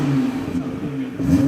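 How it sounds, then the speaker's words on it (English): Car fitted with an FMU exhaust starting up in quiet mode, a brief muted engine whir and low hum that settles to a subdued idle, close and quiet. "He's gonna start it up in quiet mode first."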